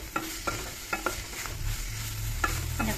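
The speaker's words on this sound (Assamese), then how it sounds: "এনেকৈ লৰাই লৰাই দিব।" Bitter gourd and small fish curry stirred in a pan, several spaced scraping strokes over a low steady sizzle, close by with no talking.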